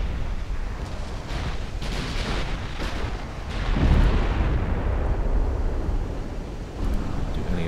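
Naval secondary guns firing at destroyers in the video game Ultimate Admiral Dreadnoughts, heard as dense overlapping booms and rumbling blasts that swell around the middle and keep rolling on without pause.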